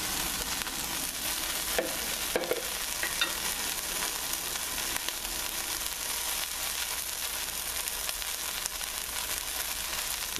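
Peppers frying with bacon in a pan for a lamb, bean and kale dish, a steady close sizzle with occasional stirring scrapes throughout.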